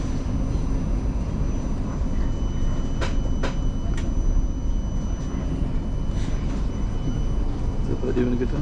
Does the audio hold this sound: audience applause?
no